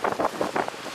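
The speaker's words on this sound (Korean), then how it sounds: "지금 바람 때문에 멀리 날아가지는 못하고 있는데" Strong gusty wind buffets the microphone on a seawall while fishing, with uneven rushing bursts throughout and no voices.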